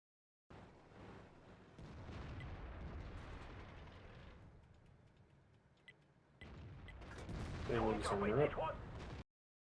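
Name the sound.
tank cannon firing in a video game, IS-2 tank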